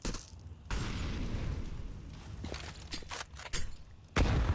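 A high-explosive grenade goes off in a Counter-Strike match on Mirage during an ESL Challenger League game, one of several sharp, loud booms and gunfire bursts over a noisy wideband background of in-game sounds.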